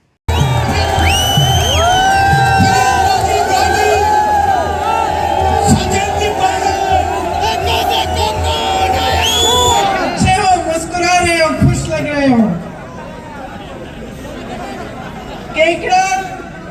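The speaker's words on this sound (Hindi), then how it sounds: "जनसभा के दौरान बड़ी संख्या में लोगों की भीड़ उमड़ पड़ी" A large crowd at a political rally in Kekri, addressed by Priyanka Gandhi and Sachin Pilot, cheers loudly with whoops, shouts and chatter. The roar holds strong, then drops to a lower murmur with scattered bursts.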